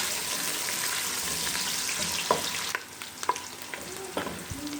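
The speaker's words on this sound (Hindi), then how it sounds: "प्याज को थोड़ा फ्राई कर लेंगे" Medium-sized chopped onion frying in hot oil for a mixed dal, a steady loud sizzle throughout with occasional spoon scrapes and stirring clanks, close up and without talk.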